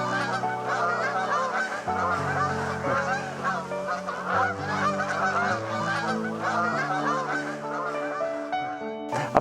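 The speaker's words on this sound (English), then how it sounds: "behind me is some water that's got some large flocks of Canada geese, lapwing and starling on it" A large flock of Canada geese honking loudly and continuously on water, many overlapping calls close by with no talking.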